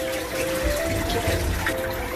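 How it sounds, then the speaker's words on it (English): Water slurping and gurgling through the return of a Red Sea Reefer Peninsula 650 aquarium during a water test, a steady close, continuous watery churn with a faint tonal hum underneath. "Right now it's literally slurping,"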